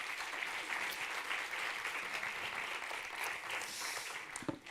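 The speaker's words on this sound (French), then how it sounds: "On peut les applaudir." An audience breaks into steady, sustained applause, a dense wash of clapping from many hands lasting several seconds.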